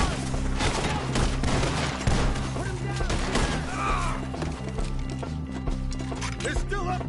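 Rapid gunfire crackles in Red Dead Redemption 2, shot after shot over galloping horse hooves and a steady low rumble, with voices shouting in the mix.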